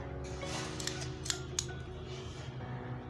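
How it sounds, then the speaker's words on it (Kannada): Scissors cutting cloth for blouse neck piping, a few crisp metallic snips over a low steady background hum, close but fairly quiet. "ಕ್ಲಾತ್ ಅದನ್ನು ನೀವು ಸರಿಯಾದ ಲೆವೆಲ್ಗೆ ಕಟ್ ಮಾಡ್ಕೊಂಡ್ಬಿಡಿ।"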